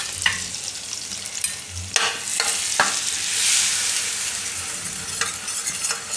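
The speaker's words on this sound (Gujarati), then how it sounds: "આ રીતે હવે એમાં આપણે આ મેંદો નાખી દેવું અને આપણે શેકવાનું છે" Maida flour roasting in oil in a pan for bottle gourd kofta, a soft steady sizzle with sharp spoon scrapes and clinks against the pan at intervals, close by with no talking.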